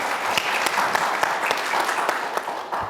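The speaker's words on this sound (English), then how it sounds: "Round of applause for Gabe" Warm applause from an audience at a panel event on mental illness, honouring a young boy named Gabe; steady, fairly close clapping with a few sharp individual claps standing out over the crowd.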